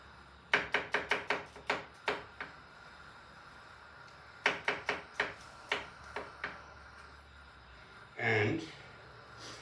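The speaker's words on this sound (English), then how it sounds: "I'm going to chop off some garlic" A knife chops garlic on a cutting board for spaghetti sauce, in two quick runs of sharp, close taps at a steady rhythm, followed by a brief rustling noise.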